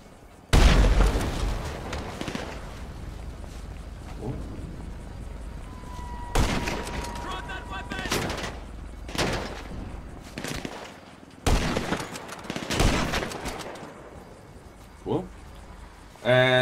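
Gunfire in Grand Theft Auto V Online, a handful of loud broadband shots and bursts spaced across the stretch, with a person talking over the game sounds between them.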